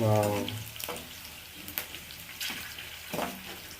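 Spices tempering in hot oil for a Nellore-style fish curry, a soft, steady sizzle with occasional louder crackles and stirring, close by and faint, with a brief voice at the start.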